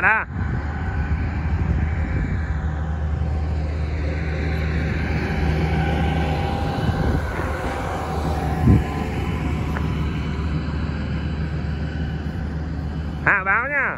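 A 1.2 m radio-controlled model Cessna airplane flies outdoors, its engine giving a steady drone with a whine that rises and falls over a windy background, while people talk nearby.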